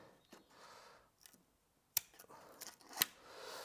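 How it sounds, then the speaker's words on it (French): Left-handed scissors cutting, heard as two sharp, distinct snips spaced about a second apart amid quiet rustling near a bandsaw workshop setup. "J'ai une paire de ciseaux de gaucher"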